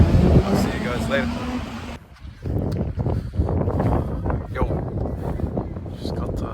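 Wind gusts buffet the microphone at a beach with the tide coming in, a steady rough rumble throughout, loud and close, with a brief lull partway through.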